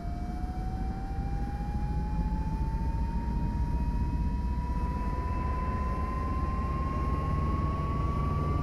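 Turboprop engine of a Turbo Commander 690B spooling up during start in the X-Plane 11 flight simulator, a steady rising whine climbing in pitch over a dense low rumble, loud and continuous throughout.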